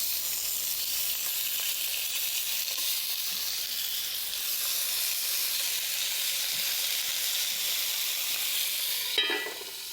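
Coated pieces brown in a pan with a steady, moderate sizzle and light crackling that runs throughout, ending with a brief scrape or clatter of a utensil; no talking.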